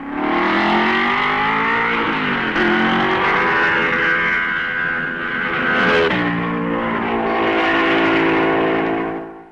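1955 Formula 1 race cars at Spa-Francorchamps roar loudly and continuously, engines rising and falling in pitch as they accelerate and pass, with no speech over the sustained, close engine noise.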